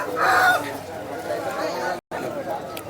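A rooster at a Vijayawada poultry market, kept in a basket, gives a brief crow-like call near the start over steady market chatter and nearby talking.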